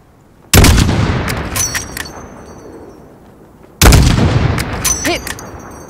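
Two loud, sharp sniper rifle shots in Call of Duty: Modern Warfare, fired several seconds apart, each with a long booming tail. Brief game radio chatter follows the second shot.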